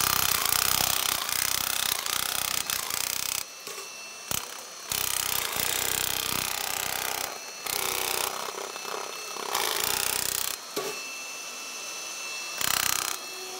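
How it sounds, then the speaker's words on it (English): A Milwaukee brushless nibbler cuts through material in loud, rasping bursts, starting and stopping several times with short quiet gaps between runs. "This is the first nibbler that I know of on the market that is brushless."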